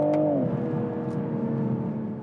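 A 2022 Toyota GR Supra's B58 3.0-litre six-cylinder engine revs up sharply, then settles into a smooth, throaty drone that holds steady and fades slightly, loud and close.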